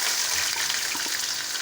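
Onions hit hot oil in a pan for Punjabi chole masala, giving a loud, steady sizzling hiss that fills the short moment without speech.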